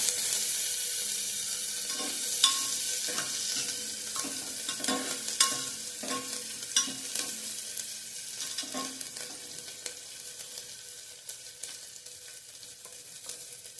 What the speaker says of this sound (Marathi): साधारण 1 मिनिटभर परतून घ्यायचं, म्हणजे कांद्याचा कच्चेपणा जातो आणि खमंग लागतो कांदा